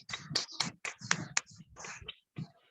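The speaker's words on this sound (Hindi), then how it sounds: "तो जोरदार तालियां बजाएंगे बीना भाभी के लिए" A small audience claps for a sweet poem at a Mother's Day women entrepreneurs' club program, with a sparse scattering of separate, sharp hand claps over a few seconds.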